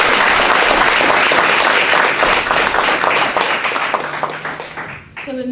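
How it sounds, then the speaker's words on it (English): A crowd at an awards ceremony breaks into loud, sustained applause, dense clapping that fades toward the end as a voice starts. "So can we give him another round of applause?"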